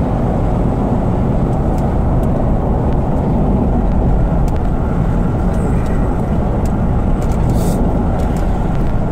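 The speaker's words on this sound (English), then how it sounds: "We're gonna do a little driving." A car driving along, heard from inside as a steady, loud engine and road rumble that holds unbroken throughout with no talk.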